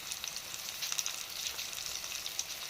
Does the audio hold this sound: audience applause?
no